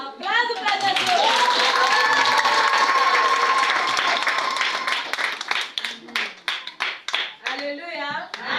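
A congregation applauds during a Wednesday church service, loud sustained clapping mixed with shouts and cheering voices, thinning into scattered individual claps and voices toward the end.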